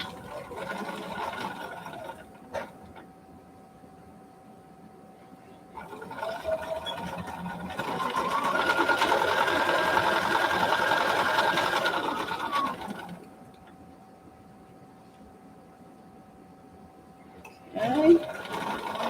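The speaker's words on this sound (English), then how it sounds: "This is my third Bernina." A Bernina sewing machine stitches fabric for an adult face mask, its close, steady whirring running in bursts and swelling louder in the middle. A person talks between and around the runs.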